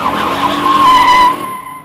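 A 2014 Honda Odyssey Elite minivan with 248 horsepower and traction control switched off squeals its tires in one loud, sustained, close screech that fades out toward the end.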